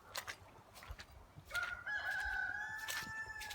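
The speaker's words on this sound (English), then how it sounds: "But Thor, the rooster, is pretty good at letting me know when he's out and about." A rooster named Thor crows outdoors in one long, drawn-out call that starts partway through and holds steady to the end, loud and fairly close over faint background noise.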